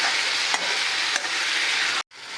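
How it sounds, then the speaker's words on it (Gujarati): Steady sizzle of cabbage Manchurian being sautéed in a hot pan with ginger, garlic and chili paste, a continuous bright frying hiss broken by a couple of soft stirring scrapes and a brief silent gap near the end. "હવે સાંતળવા દઈશું."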